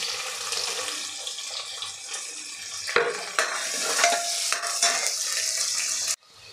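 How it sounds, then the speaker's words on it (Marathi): Sliced onions hit oil already holding fried garlic for a chicken curry, giving a steady broadband sizzle with stirring scrapes and a few sharp clinks, then cutting off abruptly near the end. "कांदा आपल्याला हलकासा ट्रान्सपरंट होईपर्यंत परतून घ्यायचा आहे"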